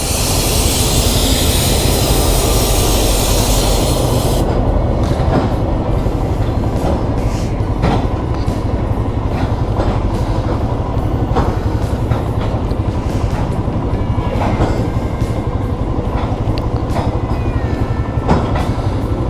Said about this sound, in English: Coal train, by the looks of it.